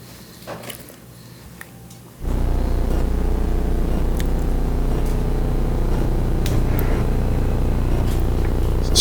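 A DCS stove burner, cleaned with electrical cleaner after a clicking no-light fault, catches after quiet clicks and then roars as a big flame, a loud, steady rumbling rush that holds to the end.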